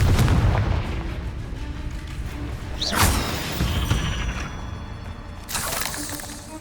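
A Confringo fire spell going off in the video game Hogwarts Legacy, with two loud bursting blasts a few seconds apart over a rumbling low background, each trailing off in a crackling, fizzing tail.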